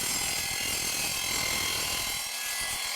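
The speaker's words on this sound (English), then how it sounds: "I'm going to make a trip to the miter saw." Miter saw cutting a beveled relief into a welded window frame, a loud, steady grinding whir of the blade through the material that holds for nearly three seconds before cutting off abruptly.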